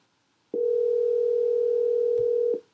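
A steady electronic telephone tone from a song, a single clean sustained note of about two seconds, loud and alone with no talk.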